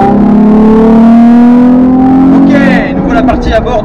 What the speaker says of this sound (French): Ok, nous voilà partis à bord de cette Nissan 350Z.